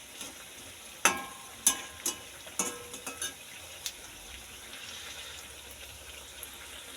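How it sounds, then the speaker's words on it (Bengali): Cabbage pakoras fry in hot oil with a soft, quiet sizzle, broken by several sharp clinks and scrapes from stirring in the pan. No one speaks. "এবার আমার পকোড়া কিন্তু ভাজা হয়ে এসেছে"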